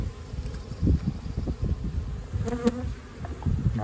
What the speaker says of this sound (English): it has these two colonies of bees